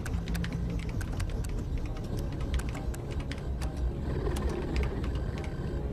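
A computer keyboard clacks in Highlander 2, with sharp individual keystrokes tapping out at an uneven pace over a steady low rumble of background noise.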